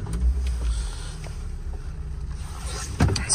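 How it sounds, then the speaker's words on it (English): A 2004 Renault Kangoo wheelchair-accessible car-derived van starts up with a short crank and settles into a quiet, smooth idle, heard from outside with the doors shut. "Right, I'll jump in the front of the vehicle and just start it up for you."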